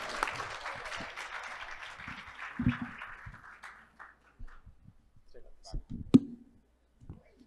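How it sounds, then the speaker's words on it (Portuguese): Brief audience applause closing a panel at a condominium summit, fading out within a few seconds, followed by scattered clicks, thumps and handling noises. "palmas!"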